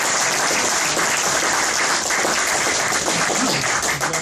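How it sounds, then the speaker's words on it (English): Loud, dense applause from an audience at a reunion of old boys, steady clapping that fills the whole stretch without pause. "I'd like you to give Tony a clap."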